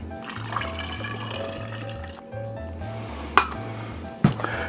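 Low carb grenadine syrup pouring through a funnel into an airtight bottle, a steady liquid trickle under a low rhythmic background hum, with two sharp clinks from the bottle near the end.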